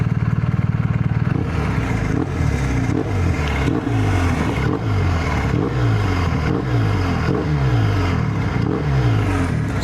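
A BMW 1250 GSA motorcycle engine revs repeatedly, with a steady idle rumble broken by about eight sharp throttle blips in an even rhythm. The bike sounds loud and close, and no voices are heard.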